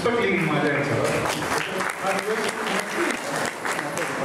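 An audience at a foundation event claps loudly and continuously, a dense close burst of applause that keeps going under some speech.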